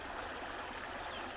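The shallow headwaters stream where the Mississippi River begins flows in a steady, even rush of water, close and fairly quiet, for about a second and a half.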